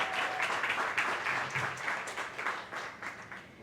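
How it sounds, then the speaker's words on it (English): A seated audience at a Latino cultural heritage event applauds warmly, a steady stream of many hands clapping that carries on without a break and fades slightly at the end. "Let's give Kathy a huge round of applause."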